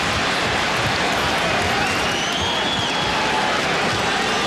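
A sellout basketball crowd at the Pepsi Center during a 2004 playoff game between Minnesota and Denver keeps up a loud, continuous roar of cheering and noise, with a few faint whistle-like calls rising through it.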